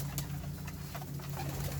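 Domestic pigeons in a loft of young birds give soft, low cooing and a few brief wing flutters over a steady background hum, fairly close and continuous.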